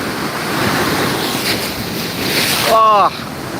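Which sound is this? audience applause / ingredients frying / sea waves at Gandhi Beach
sea waves at Gandhi Beach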